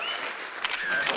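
A phone camera shutter snapping a photograph, two brief crisp clicks about half a second apart, close and fairly clear over a quiet background.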